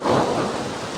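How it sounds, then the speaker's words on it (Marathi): A heavy downpour roars loud and continuous, thick with thunder rumbling underneath during a single intense burst of stormy weather. "खतरनाक पाऊस चालू झालाय"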